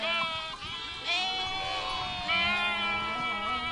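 Romanov sheep bleat repeatedly on a farm, with wavering, overlapping calls from more than one animal, close by and steady throughout.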